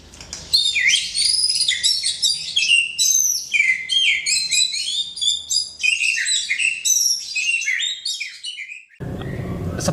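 A pastel-colored white-rumped shama, or murai batu, sings in a rich, varied stream of whistles and rapid trills, loud and close, with brief pauses between phrases before the song cuts off near the end.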